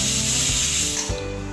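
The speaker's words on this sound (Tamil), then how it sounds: "குக்கர் விசில் வந்துருச்சு," A pressure cooker, cooking for sweet mango chutney, lets out a loud, steady hissing whistle of escaping steam, with a rough mechanical rattle underneath.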